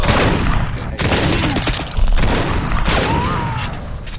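In the video game Crysis Remastered, bursts of gunfire are fired at trees, with loud, dense, overlapping shots and booming impacts throughout the short stretch.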